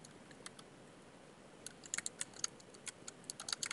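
Quiet typing on a computer keyboard: sparse, irregular light clicks that cluster into quick bursts of keystrokes toward the end, faint against a low background hiss.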